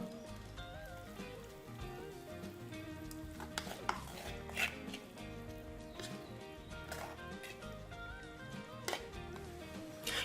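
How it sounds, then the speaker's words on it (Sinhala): Boiled bitter gourd is moved into a separate vessel with faint, scattered clinks and scrapes of utensils against pots in a quiet kitchen, with no voices. "මම ඊළඟට මේ කරවිල ටික වෙනම භාජනයකට ඉවත් කරගන්නවා"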